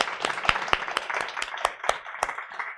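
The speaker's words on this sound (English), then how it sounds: "I wanted to give a big round of applause" A small audience claps for a discussion panel in an event space, a modest, uneven patter of individual claps at moderate distance, fairly faint, with no speech over it.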